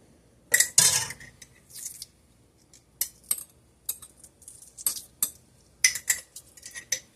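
Glass canning jars filled with homemade salsa clink and knock together in a kitchen, a scattered run of sharp, close clinks and taps separated by short quiet gaps.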